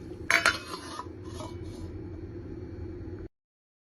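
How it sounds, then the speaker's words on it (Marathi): A jug being washed in a kitchen, with a couple of sharp metallic clinks and knocks at the start, then a steady low rush of water that stops abruptly. "जग अशा पद्धतीने धुवून घ्यायचं आपल्याला"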